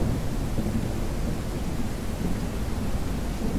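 Steady rain with a low, continuous thunder rumble from a stormy weather effect in the dinosaur survival game Beasts of Bermuda, a dense broadband wash that holds even throughout, close and fairly loud, with no voices.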